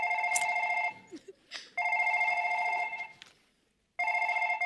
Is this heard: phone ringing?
yes